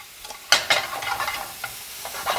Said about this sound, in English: Now we're gonna get it a nice stir.